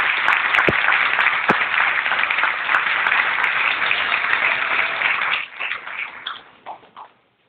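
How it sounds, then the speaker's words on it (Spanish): An audience at a literary lecture on César Vallejo applauds to welcome a critic to the stage: dense, loud, sustained clapping that thins into scattered claps and fades out near the end. "Lo recibimos como se merece, con fuertes aplausos."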